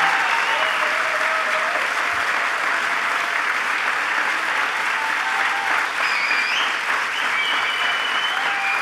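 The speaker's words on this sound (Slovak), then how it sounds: "Potlesk pre vás." Theatre audience applauding at the Bratislava mayor's award ceremony, a dense sustained clapping from a full hall, loud and even throughout.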